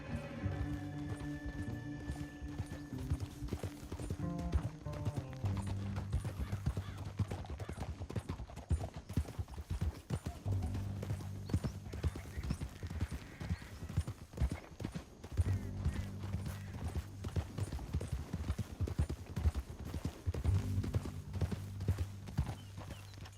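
Horses gallop in Red Dead Redemption 2, hooves clip-clopping in a steady rhythm across the whole stretch over a low droning musical score, with occasional whinnies.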